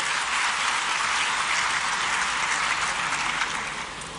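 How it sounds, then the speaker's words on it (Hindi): Steady, dense applause from a crowd at an awards ceremony in Bhopal, sustained evenly throughout and tapering off slightly at the end, with no voices over it. "तालियों से स्वागत करेंगे कुमारी सोनाली सिंह परमार जी का।"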